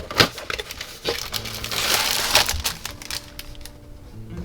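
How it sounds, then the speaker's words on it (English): A plastic seal being cut on the box of an Arma Hobby Hurricane Mk IIc scale model kit, heard as close crinkling and tearing plastic with a few sharp cracks and crumpling rustles, no talking. "Cut the seal on it."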